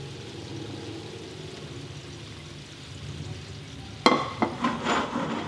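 Previously fried fish pieces go back into a pan of thickening homemade teriyaki sauce with a little ginger, setting off a sudden burst of close sizzling and bubbling after a low, steady simmer.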